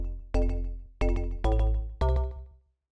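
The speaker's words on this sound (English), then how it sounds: "So for instance, you can add some slap delay with macro 3." Synth bass preset with slap delay added through a macro, for tropical or chill house: four loud, rich plucked bass notes struck in an uneven rhythm, each ringing and decaying, with nobody talking.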